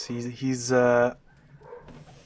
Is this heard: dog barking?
yes